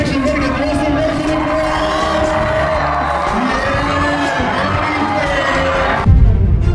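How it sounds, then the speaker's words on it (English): A large crowd roars and cheers loudly and continuously, with whoops and shouts mixed into the dense wash of voices before a sharp bang near the end. "The roar of the crowd."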